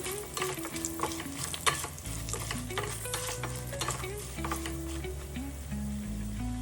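Dried red chillies being stirred as they fry in a pan give a lively, close sizzle with repeated scraping strokes of a spoon, over a low steady hum and without any speech.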